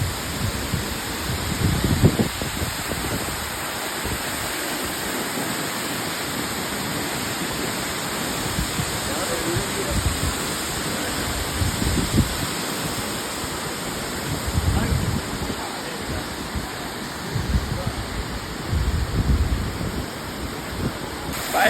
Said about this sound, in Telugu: చూడొచ్చు జలపాతం ఎలా ఉందో.